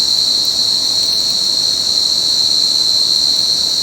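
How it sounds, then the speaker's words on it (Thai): A large cricket trills loud and steady at close range, one unbroken high chirring drone with no other sounds. "เนี่ยผมมาเจอจิงหรีดตัวแม่ครับ"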